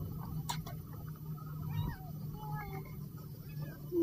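Several small kittens meow faintly in short, thin cries scattered over steady low background noise, with a voice talking softly at times.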